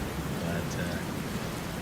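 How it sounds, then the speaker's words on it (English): A Texas rain shower falls steadily, a dense, even hiss of rain on surfaces with a faint low rumble underneath, continuous and moderately loud. "these Texas rain showers only seem to last about anywhere from 15 minutes to an hour"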